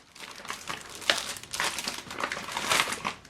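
A stack of 4x6 photo paper is handled near the microphone beside a Canon PIXMA MG2551S printer, giving several close, crisp crinkling and rustling bursts with no talk.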